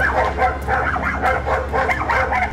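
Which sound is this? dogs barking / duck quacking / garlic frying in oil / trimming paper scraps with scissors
dogs barking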